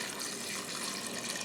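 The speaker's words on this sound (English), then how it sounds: "I've got some water. I'm going to start out with about 8 cups" Water pours into a pot of seven cut potatoes, about eight cups, a brief, close, steady splashing stream from start to finish with no talking.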